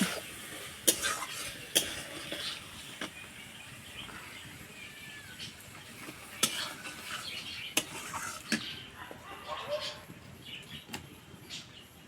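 Peeled peas stirred in a sizzling frying pan for a Bengali-style matar paneer: a soft, steady frying hiss runs throughout, broken by intermittent spatula scrapes and clinks against the pan.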